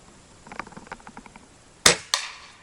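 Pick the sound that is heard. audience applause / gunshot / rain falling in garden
gunshot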